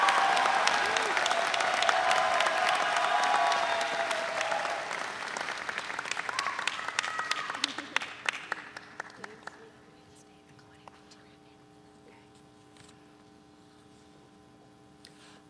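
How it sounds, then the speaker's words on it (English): Commencement audience applause for Anna, loud dense clapping for several seconds that thins out into scattered claps and dies away to a quiet room with a faint hum. "Please join me in applause for Anna"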